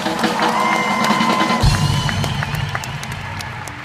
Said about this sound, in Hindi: मैं सीरी चंदन के लिए जोरदार तालियां हो जाए एक बार